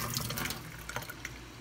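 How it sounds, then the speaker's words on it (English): Water pours out steadily into a sink, a continuous close splashing stream with a few drips, heard alone without talk. "Next, you want to pour the water out."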